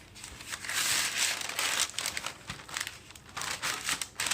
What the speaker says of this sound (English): Now we need more parchment paper.